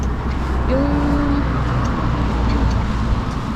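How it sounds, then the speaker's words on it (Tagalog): Road traffic rolls past in a continuous, fairly loud wash of many cars, with one brief tonal whine from a passing vehicle rising above the steady rumble. "Daming sasakyang dumadaan."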